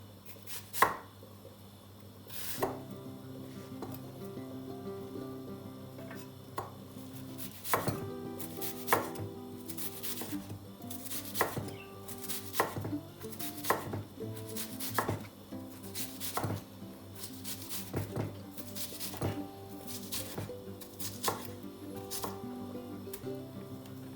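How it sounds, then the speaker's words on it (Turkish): A knife finely chops onions on a board in close, crisp strokes, some quick and clustered, others spaced out, over a faint steady hum. "ince ince doğrayalım."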